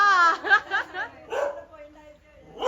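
A dog barks in a few short yappy bursts close by, mixed with people talking during a festive Onam family gathering.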